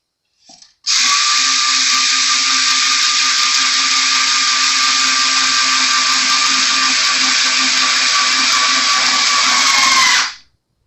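A steady high-pitched motor whine, like a power string winder, runs for about ten seconds while Fender P Bass strings are wound up to tension, loud and close, starting abruptly and cutting off at the end.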